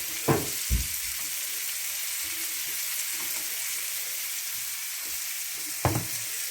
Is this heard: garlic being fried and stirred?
yes